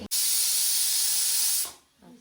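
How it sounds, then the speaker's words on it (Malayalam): A loud, sharp burst of hissing steam from a pressure cooker whistle while cooking chicken curry rushes out for over a second, then cuts off abruptly as the pressure releases. "അപ്പൊ കുക്കറിൽ വിസിൽ വന്നു"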